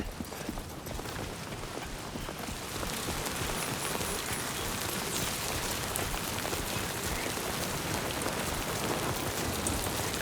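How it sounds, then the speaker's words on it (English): Rain falls in the video game Death Stranding 2, a dense, even downpour that hisses and patters steadily for the whole stretch without any talk. "I am getting rained on."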